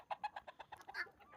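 Desi hens on a village poultry farm give a quick run of soft clucks and short calls, close and fairly quiet, in an uneven rhythm lasting just over a second.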